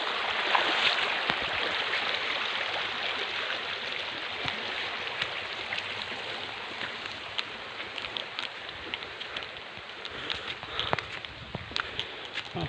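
Water in a small stream splashes and trickles steadily as someone wades across it on a trip toward San Narciso, Quezon, with scattered footsteps and light knocks over a continuous broadband wash and no talking.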